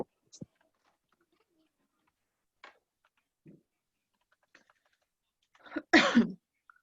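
A single short sneeze bursts out near the end of a quiet stretch, loud against near silence, after a few faint ticks and small mouth sounds.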